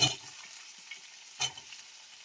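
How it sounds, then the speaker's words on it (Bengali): Pumpkin, potato and split green chillies fry in a kadai with a soft, continuous sizzle, punctuated by two sharp spoon knocks against the pan; no talking. "এবারে আমার কড়ার মধ্যে দিয়ে দিচ্ছি কুমড়ো, আলু, দুটো কাঁচা লঙ্কা চেরা আছে"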